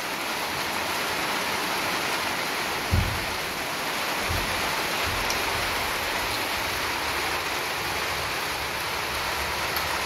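Steady rain pours over a garden farmhouse in a continuous even hiss, broken by a couple of soft low thuds.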